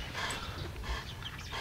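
A Pakistani bully dog pants and gives soft yips and whimpers amid a noisy outdoor gathering, the sounds brief and partly buried in crowd din.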